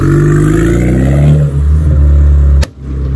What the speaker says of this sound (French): Qu'est-ce que c'est que cet échappement de fou là?